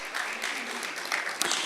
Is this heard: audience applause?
yes